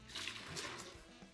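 Brewing liquid for a Cascade APA poured into a measuring jug, a steady soft splashing trickle that runs the whole time, faint and close, with no talking.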